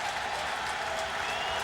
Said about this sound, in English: the crowd is trying to become a factor at Commonwealth on third down